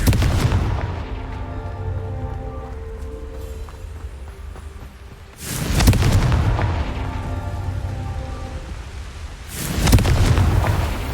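A Confringo explosion spell cast in Hogwarts Legacy sets off two heavy, booming blasts a few seconds apart. Each blast is loud and broad and decays into a rumbling tail over a dense game soundscape.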